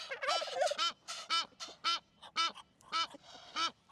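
A Muscovy duck gives a series of about ten raspy, honking calls in a quick uneven rhythm, close and fairly loud, alone without talk.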